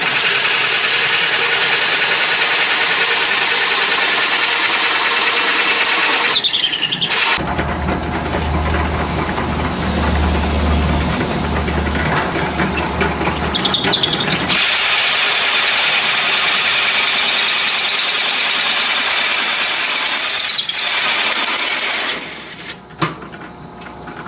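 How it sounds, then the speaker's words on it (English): A power drill boring a 1 3/4 inch hole for the mast opening of a wooden Acorn dinghy: a loud, steady motor whine runs for several seconds, stops, then starts again and runs to near the end. "I'm going to drill 1 3/4 because I plan to put a little leather inside the opening"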